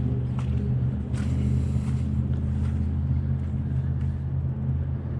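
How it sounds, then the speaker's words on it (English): Steady low rumble of cars passing beyond a flooded riverside park, a continuous traffic drone with light wind buffeting the microphone and no clear individual passes. "And you can hear cars."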